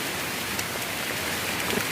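Rain falls in a steady, dense hiss with scattered patters of drops, close and continuous for a short stretch with no voices.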